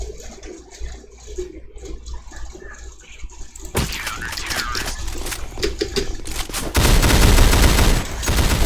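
Sustained video game gunfire, a dense fusillade that builds from a quieter stretch into loud, continuous bursts of shots, near and heavy toward the end.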